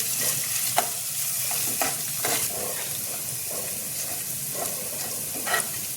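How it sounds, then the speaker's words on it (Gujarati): Green chili, ginger and asafoetida fry in hot oil in a pan while being stirred for veg frankie, a continuous bright sizzle with periodic scraping strokes of a spatula, close and without voices. "તો તેમાં આપણે લીલું મરચું એડ કરીશું, આદું એડ કરીશું, હિંગ એડ કરીશું, બધું બરાબર હલાવીને મિક્સ કરી લેશું"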